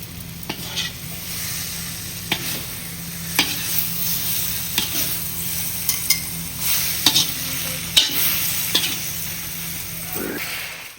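Masala fries in a large iron kadai and is stirred over and over, so a constant sizzle runs under regular scraping strokes of the spoon against the metal. The stirring is close and rhythmic, with faint speech in places.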